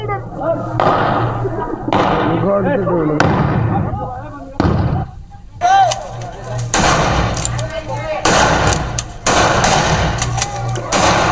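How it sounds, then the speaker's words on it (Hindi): Rapid bursts of celebratory gunfire into the air at a wedding in Gwalior crack repeatedly, loud and close, with shouting voices in between and a steady crowd din underneath. "शादी समारोह में हवा में गोलियां दागते युवक, हर्ष फायर करते युवक दिखाई पड़ रहे हैं।"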